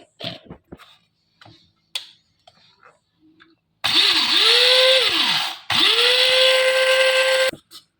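Fennel seeds coarsely ground for pickle spice in an electric grinder, heard as two loud, steady whirring bursts of several seconds each with a high whine, after a few faint clicks and knocks.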